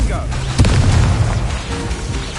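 A Confringo spell explosion during a duel in Hogwarts Legacy bursts with a loud boom and rumbling low-end blast, with a voice calling out over the impact.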